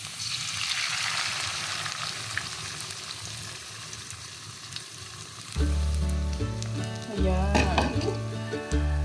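Egg fries in a pan for a home meal of egg with eggplant, giving a steady crackling sizzle that carries on after background music begins partway through.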